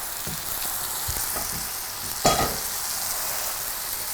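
Mushrooms fry in oil in a pan with a steady, close sizzle, a few soft knocks of the pan, and one brief louder hiss burst partway through.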